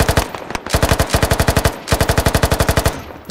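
Rapid automatic gunfire from a video game firefight, loud, sharp bursts in steady rhythm, briefly pausing before resuming with another long rattling string of shots.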